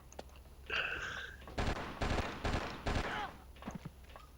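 Bursts of gunfire in the video game Oni strike the player character, with several sharp, rapid volleys clustered close together and a few quieter shots around them.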